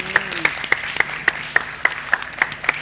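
A studio audience during a Ramzan iftar broadcast claps in a brisk, regular rhythm, each sharp beat evenly spaced over a bed of general applause, close and loud.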